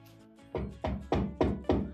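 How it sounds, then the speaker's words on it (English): Five loud, evenly spaced knocks strike a door as a storybook sound effect, each a sharp thud with a short ringing decay, following a brief quiet start. "Ollie woke up to a loud knocking on his door"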